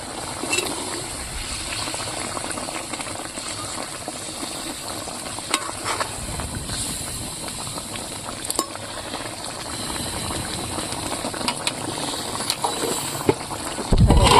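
Pointed gourds go into a simmering chicken gravy for potol dorma, with a steady close sizzle and bubbling, faint stirring clicks, and a louder thump at the very end.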